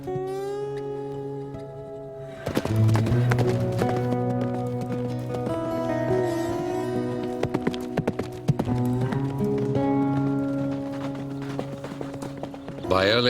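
Hooves of a mustang horse clip-clop steadily in the high desert, a clear repeated rhythm of sharp hoof strikes, close and prominent, set against background music with a narrator speaking over it.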